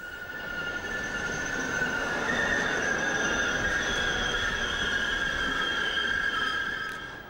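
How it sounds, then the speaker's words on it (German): An old Uerdingen railbus, a red diesel railcar on a Bavarian line, shunting with a continuous rolling rumble and sustained high wheel squeal that fades at the end. "Der Zug rangiert um."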